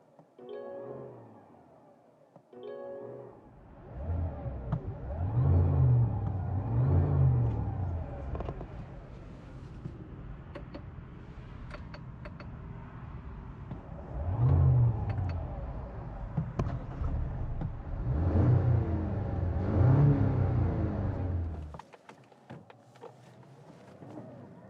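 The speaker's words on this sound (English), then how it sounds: "I am revving an electric motor." A Mazda CX-60 PHEV's electric motor being revved in neutral while in EV mode, giving repeated rising and falling whirring surges in loud bursts, each lasting a second or two, with quieter steady hum between them.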